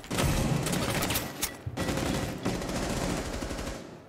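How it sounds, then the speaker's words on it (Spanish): Rapid bursts of sniper rifle fire in Rainbow Six Siege, loud and close, a dense string of overlapping shots that breaks off briefly once and then resumes. "cuando disparo un tiro"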